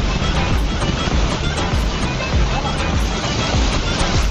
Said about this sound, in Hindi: देखो पानी बह रहा है।